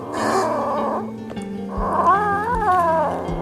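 A kitten meows and yowls loudly and close up while eating fish biryani, with a long wavering cry after a brief pause and some low growly tones.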